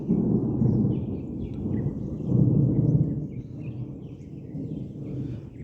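Low, rolling thunder from an unseasonal May rainstorm in Konkan rumbles steadily in the distance, swelling and fading over several seconds, with faint bird calls above it.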